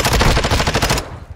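Rapid automatic gunfire in a first-person shooter video game match, a loud close burst of repeated shots for about a second before cutting off to quieter game noise.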